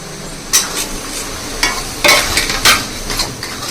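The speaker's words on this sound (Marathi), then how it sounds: "त्याच तुपामध्ये मी आता रवा भाजत आहे" Semolina roasting in ghee in a pan, stirred steadily with a utensil: irregular scraping clinks and knocks rise over a soft, constant sizzle, close and fairly loud, with no voices.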